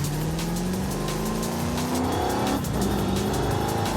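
Engine noise heard from inside a Bentley in the racing game Forza Horizon 5, a loud continuous drone with rising revs and a hint of tire squeal, no talking.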